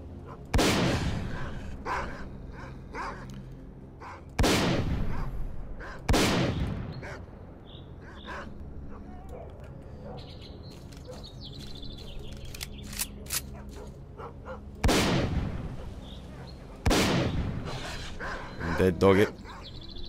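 Dogs and gunfire in the PC shooter Stalker: Clear Sky: loud sharp gun bursts strike repeatedly amid barking, yelps and scattered bird calls, with a voice talking at times.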